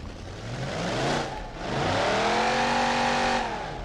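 A Plymouth Road Runner muscle car in BeamNG.drive revs hard, its engine climbing in pitch twice with a short dip between, loud and close throughout with no talk.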